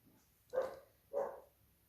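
Two short, muffled barks from dogs somewhere indoors or just outside, spaced about half a second apart, fairly faint and distant, with no talking.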